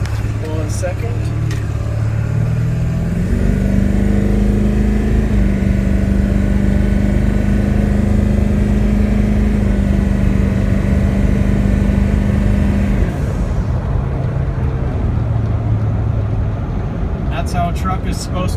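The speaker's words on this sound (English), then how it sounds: "That's how a truck is supposed to accelerate." A 2000 Ford pickup with a 7.3 turbo diesel engine accelerates hard, its drone climbing in pitch and staying loud and close, then easing off near the end, with a voice speaking briefly over it.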